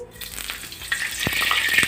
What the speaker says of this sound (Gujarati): અહીંયા માત્ર આપણે મીઠા લીમડાના પાનથી જ બટેટાનો વઘાર કરવાનો છે તો એડ કરી દઈશું